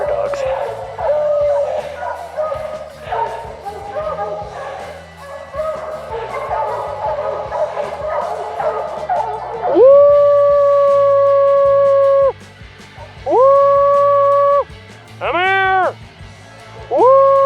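Bear hunting dogs and pups bark and yip in a loud, busy chorus at close range, and sustained howls rise near the end.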